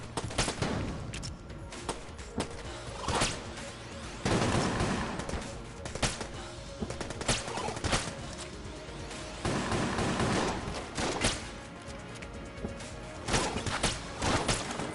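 Rapid bursts of shotgun blasts and gunfire ring out in a video game fight against bats, dense and loud in repeated clusters with brief pauses between volleys and no talking.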